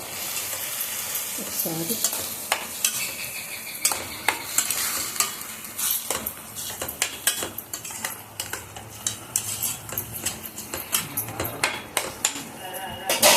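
A spoon stirs chukka kura (sorrel leaf) chutney in a pan after salt goes in, giving repeated close scrapes and clinks over a soft sizzle of cooking, with a brief voice in the background.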